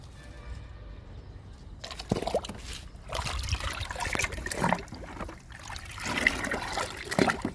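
Liquid flowering fertilizer is poured from a container into loosened soil around a potted plant, giving faint, intermittent trickles and splashes after a quiet start.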